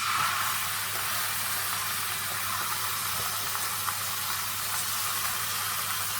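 Pork shoulder sears in a hot pan with a loud, constant hiss that holds steady and close the whole way through, with no talk over it.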